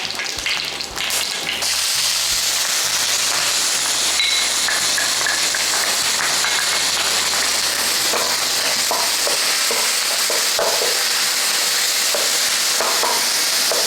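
Steady, dense sizzling of onions frying in hot oil with curry leaves, continuous and close, with occasional stirring scrapes.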